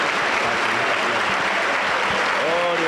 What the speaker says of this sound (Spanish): la iglesia le recibe con fuerte aplauso para Jesús